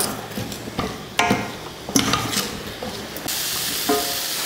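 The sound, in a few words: stirring spices in cooking pan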